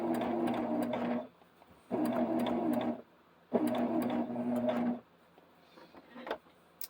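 A sewing machine stitches a quilt block appliqué in three close, steady runs of rapid mechanical whirring, each about a second long and separated by short quiet pauses, with no talking.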